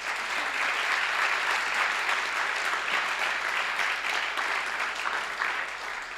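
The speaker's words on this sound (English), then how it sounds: "Let's applaud them." An awards ceremony audience applauds the finalists, a loud, even wash of many hands clapping together that holds steady throughout and tapers slightly at the end, with no talk over it.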